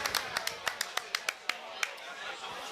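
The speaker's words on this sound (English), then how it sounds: "We were the only ones clapping there" A small group claps at a touchdown during a live NFL watchalong at the Hippodrome Casino in London, with sharp separate claps and chatter underneath.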